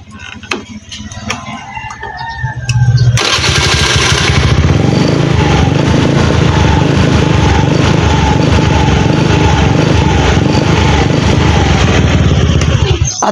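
A misfiring motorcycle engine is started after a part is tightened: faint ticking at first, then the engine catches at about three seconds and runs loudly and steadily to the end, close by.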